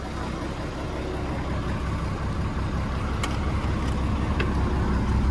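Ford F700 truck converted into a pickup, engine running with a steady low rumble close by and a couple of faint clicks, no talking.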